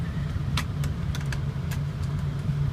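A car with 126,351 miles on it, heard from inside the cabin during a short test ride: a steady low engine and road hum runs throughout, with a few light clicks and jingles on top and no talking.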